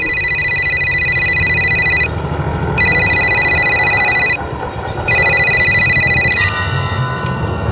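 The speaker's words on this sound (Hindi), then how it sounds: "फिर एकदम से अचानक मेरे पास निहारिका का फोन आ गया।" A telephone rings in three long electronic bursts separated by short pauses, loud and close over a low background rumble, with no talking.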